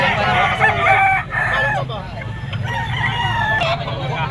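A stag rooster crows loudly and up close at a gamefowl shop, with more crowing and clucks overlapping and other birds around it, and some talk in the background.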